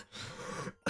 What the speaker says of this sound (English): I'm coughing so much today.